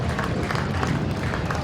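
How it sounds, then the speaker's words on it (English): Speedway crowd applauding riders at a Kent versus USA Dream Team challenge meeting, a steady wash of clapping and murmuring from the stands, continuous and moderately loud with no single voice standing out. "As the crowd show their appreciation to these riders"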